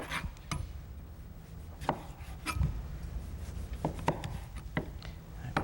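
A mango being peeled with a knife in a kitchen, soft scraping strokes and light taps against a board, spaced irregularly and fairly quiet.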